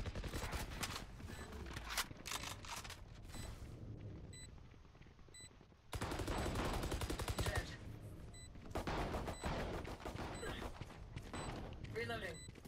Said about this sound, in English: They all have shotguns.